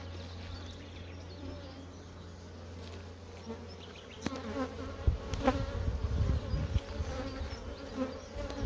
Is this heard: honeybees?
yes